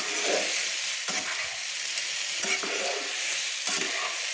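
Vegetables and spices being sautéed together in a pan over low flame for a Bengali vegetarian pui mitchuri chorchori, with a steady sizzle and occasional scraping stirs, close and alone.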